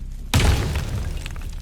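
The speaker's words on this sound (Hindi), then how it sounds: "और फिर यज्ञ में एक धमाका हुआ" A sudden loud boom bursts in and then rumbles and crackles on for over a second.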